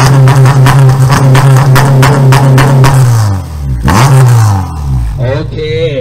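A car engine is revved hard at close range, a loud, rough, rhythmic roar that falls and swells again with several throttle blips toward the end.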